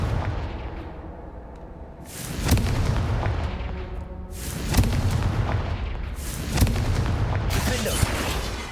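Confringo spell blasts from the Hogwarts Legacy video game, three loud booming explosions with crackling tails at roughly two-second intervals, over a steady layer of game music and ambience.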